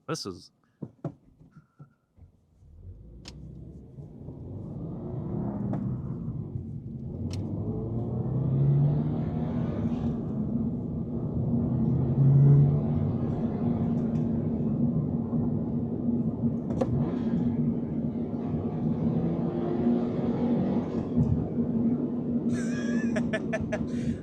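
A Toyota GR86 sports car cruises at about 70 mph, its engine droning steadily with rising road and wind noise inside the cabin, while people talk over it.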